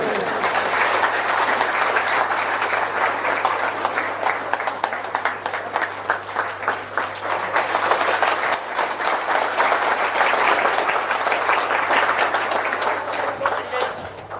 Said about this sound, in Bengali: সবাই জোরে একটু হাততালি মারি ভাই